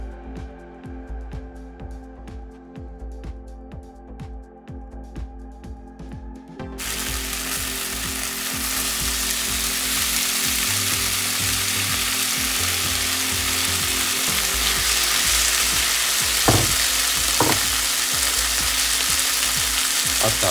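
Something fries in a pan for a Carpathian mushroom sauce. A low hum gives way to a loud, steady, hissing sizzle that starts abruptly and keeps going, with a few faint clinks near the end.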